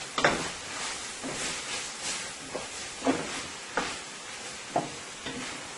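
Chicken and beef fried rice tossed in a pot, Guyanese style, with soft scraping stir strokes and quiet sizzle, a few sharper clatters of utensil against pot recurring every second or so, no talking.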